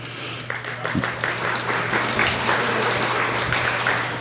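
An audience at a GUADEC 2024 annual general meeting applauds in a dense, continuous patter of many hands, steady and fairly loud throughout.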